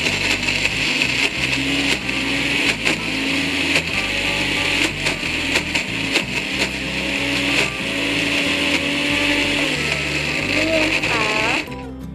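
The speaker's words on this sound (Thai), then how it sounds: "แล้วเราก็ปั่นเบานี่นะคะ" Electric blender running steadily to grind cooked fish flesh into curry paste for a Thai kaeng som with lotus stems, a continuous loud whir throughout with someone talking over it.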